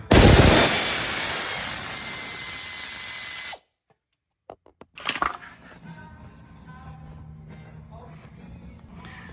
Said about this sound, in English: 3/8 drive air ratchet. It's a 13mm. I'm using a 13mm short socket on there